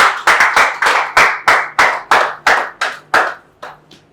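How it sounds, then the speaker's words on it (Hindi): Students at a coaching institute test centre clap in a ragged burst of about a dozen sharp, loud claps. The claps are spaced fairly evenly and thin out at the end. "उनके लिए जोरदार ताली"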